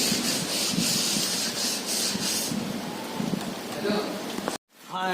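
Heavy rain in Bhubaneswar, a dense steady hiss and patter that fills the stretch. It cuts off abruptly near the end, and a voice follows.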